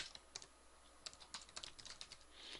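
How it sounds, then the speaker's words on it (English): Rapid, irregular clicking of keys on a computer keyboard while Java code is entered, with close, crisp taps in quick clusters and short pauses between bursts. "I was typing and I was looking at my keyboard because I got a weird keyboard right now"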